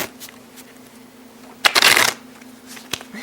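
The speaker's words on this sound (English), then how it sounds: "Shuffle the cards. As much as you like, any way you like." A deck of playing cards is shuffled once in a loud, close burst of rapid riffling flutter lasting about half a second. Quieter handling rustles come before and after it.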